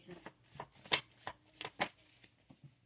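Cards being shuffled in short crisp bursts, riffles and taps repeating at an uneven rhythm, close and fairly quiet.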